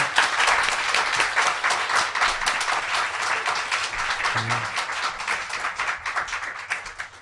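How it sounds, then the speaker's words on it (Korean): A studio audience on a Korean talk show breaks into dense, steady applause, the many claps crackling close and continuous for several seconds before thinning out slightly at the end. "박수 한번 주세요"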